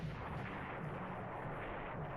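Destroyer guns fire in the War in the Pacific naval game as a faint, continuous rumble of distant bombardment with no distinct individual shots standing out.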